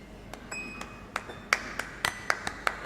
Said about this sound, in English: Please clap your hands one against the other